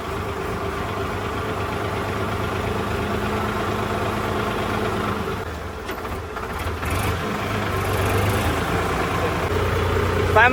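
A modified tractor engine chugs steadily while the tractor is driven, giving a constant close mechanical rumble with a brief dip partway through before the engine note picks up again.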